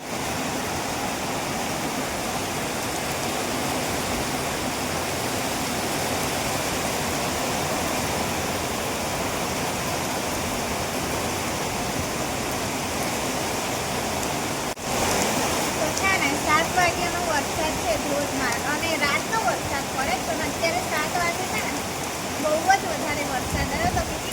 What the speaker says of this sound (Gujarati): તો તમને પહેલાં વરસાદ બતાવું